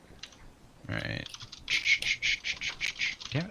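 Fast typing on a computer keyboard during an online tabletop role-playing game, a burst of rapid clicks followed by a steady run of key taps, close and fairly loud, with a brief noise before it.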